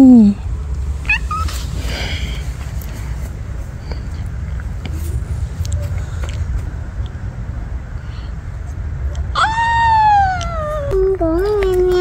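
A pet cat meows several times, loud and close, with a long drawn-out final call, all over a steady background rumble.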